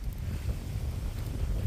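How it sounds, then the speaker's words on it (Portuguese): Strong wind blows outdoors on a rural smallholding with fruit trees, a loud, constant roaring buffet across the microphone that lasts throughout with no voices. "Tá ventando tanto, gente, que eu não sei se vocês vão conseguir me ouvir."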